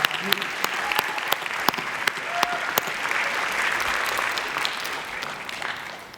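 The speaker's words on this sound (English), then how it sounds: "Give them a round of applause, guys." Applause from a festival audience welcoming guests to a live interview, steady and fairly loud with a few sharp individual claps standing out, and voices faintly mixed in.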